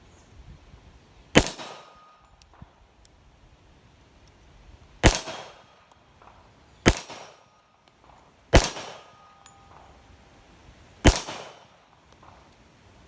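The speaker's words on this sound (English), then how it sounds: "Let's put some rounds on steel here after I reload." Five sharp shots from a Rock Island Armory M1911-FS GI Standard pistol at steel targets, each a loud crack with a brief ringing decay, spaced irregularly over open range quiet.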